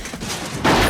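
A burst of movie shootout gunfire from a 1997 film, dense and rapid, swelling louder in the last third of a second.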